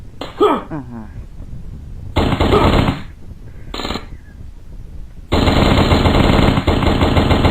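Gunfire in Uncharted 2, loud close bursts of automatic fire in separate strings with short pauses, the last burst long and sustained.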